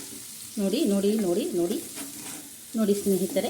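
Chicken keema with green chilli sizzling steadily in a hot pan as it is stirred, a continuous frying hiss beneath someone speaking close by.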